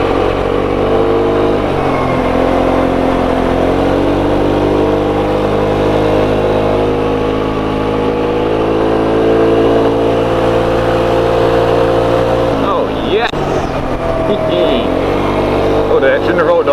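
A small CVT scooter engine drones steadily climbing a mountain road in Andalusia, loud and close throughout, with a voice speaking over it.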